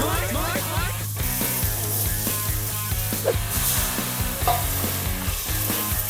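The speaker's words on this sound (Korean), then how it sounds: "고추기름은 센 불로 하면은 금방 타버려서 약불에 마늘이 어느 정도 익으면은" Garlic sizzling and crackling in chili oil over low heat, with steady frying hiss and occasional stirring scrapes, close and continuous.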